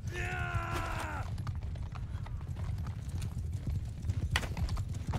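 Steady clip-clop of horse hooves trotting close by in the video game Mount & Blade II: Bannerlord, with a short whinny at the start and faint background clatter.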